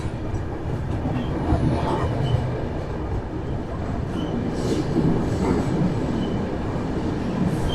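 From inside the Sanghmitra Express as it pulls into Balharshah Junction, a steady rumble of rolling coaches carries faint clatter and occasional wheel squeal. It is heard up close and continuous, with no talk over it.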